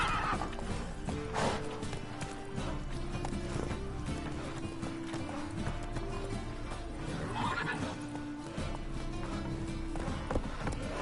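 Roach, the horse in Witcher 3, neighs and whinnies over a steady run of galloping hooves, with music and game sounds layered underneath.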